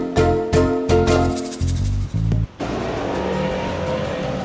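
Motorboat engine at the Boynton Beach inlet, Florida: a loud, close engine drone with throttle surges and brief dips, then a steadier, rougher rumble with water wash as the boat runs past.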